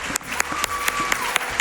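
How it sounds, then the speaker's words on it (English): An audience at a Summer Games Done Quick 2024 Balatro speedrun claps for the Joker artwork, steady dense applause with a few sharp louder claps standing out throughout. "Can we get some claps for the artwork on the Jokers made by Local Funk himself, the developer?"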